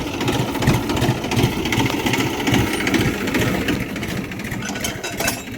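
A tractor engine idles nearby, a rough, continuous rumbling chug holding a steady level throughout with no talking.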